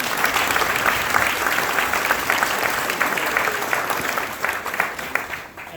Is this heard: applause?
yes